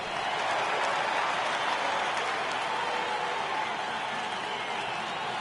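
A stadium crowd in a PS4 baseball video game cheers and applauds in a sustained, broad roar during a full count, steady throughout.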